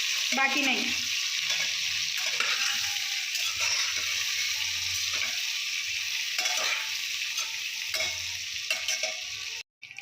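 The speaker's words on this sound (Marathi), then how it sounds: "मी याला थोडंसं असं परतून घ्यायचं, म्हणजे एकदाच फक्त हलवून घ्यायचं, असं खालीवर वांगे करून घ्यायचे" Brinjal being stirred and sautéed in a pan, a continuous hissing sizzle with occasional scraping strokes of a spoon, a few brief spoken words near the start and a sudden cutoff at the end.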